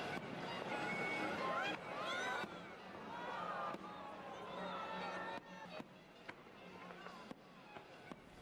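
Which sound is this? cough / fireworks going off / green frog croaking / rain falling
fireworks going off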